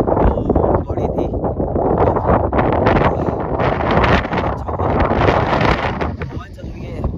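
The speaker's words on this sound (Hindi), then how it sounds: "हवा चल रही है," Strong wind gusts buffet the microphone on the Roopkund mountain trek in the Himalayas, a loud, constant roaring rumble with rushing surges throughout.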